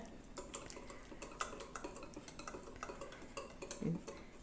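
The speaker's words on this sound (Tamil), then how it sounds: "எப்போவுமே வந்து கையிலே தான் நான் பீட் பண்ணுறேன்." Eggs are beaten by hand in a bowl for fudge brownie batter, making a quiet, steady rhythm of light taps and clinks as the whisk or spoon strikes the sides.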